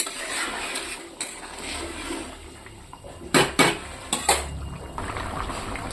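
Dry fish curry boiling in a pan: continuous close bubbling and simmering, interrupted midway by a few louder clanks and splashy bursts.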